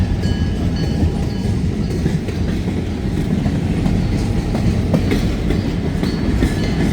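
A train rolls past on rails in a no-horn zone, a loud, continuous rumble of railcars with rhythmic clickety-clack from the wheels over the joints and no horn.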